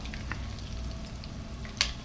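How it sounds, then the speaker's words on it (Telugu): Tempering of cumin, chana dal, mustard seeds, urad dal, curry leaves, dried red chillies and asafoetida fries in hot oil, giving a steady close sizzle with scattered small crackles and pops. "ఇదే నూనెలో మనం తాలింపు వేసుకుందాం"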